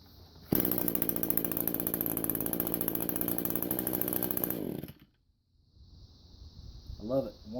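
A small Echo SRM 225 two-stroke string trimmer engine roars loudly and steadily for about four seconds, then cuts out abruptly, leaving near-silence before faint voices and rustling noises come in.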